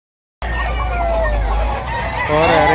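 Chickens and roosters at a busy chicken market in Lipa, Batangas crow and cluck close by, a loud overlapping chorus that starts abruptly and carries on without a break.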